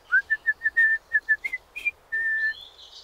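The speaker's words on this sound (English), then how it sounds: "And I love your whistling." A person whistles a short, bright tune alone, about a dozen clear notes in a quick rhythm, near and fairly loud, ending on a longer held note.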